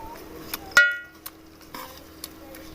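A metal spoon mashes whole onion and garlic into spinach frying in a pan. A sharp clink rings out, then a few soft taps and scrapes over a faint sizzle.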